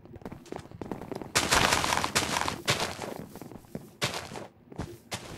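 Banana launcher weapons firing in a Minecraft multiplayer battle: rapid bursts of gunfire-like shots in clustered volleys, loud and close, with footsteps and scattered noise between them and no talking.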